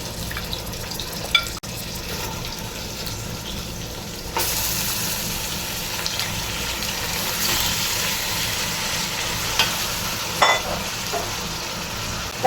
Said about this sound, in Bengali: সঙ্গে সঙ্গে এখন আমি এই যে মটনগুলো দিয়ে নিব